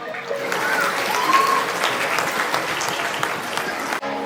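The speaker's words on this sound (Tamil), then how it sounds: "பெரிய கைத்தட்டல் கொடுப்போம்." A large crowd at a foundation's annual day award ceremony claps steadily and loudly throughout, with a brief dip near the end before the applause continues.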